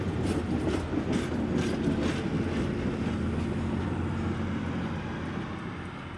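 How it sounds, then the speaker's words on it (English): A train rumbles past at a distance in Greene County, a steady low roar with faint rhythmic clacking that slowly fades. "Any given day, you can see 3 to 4 trains cross."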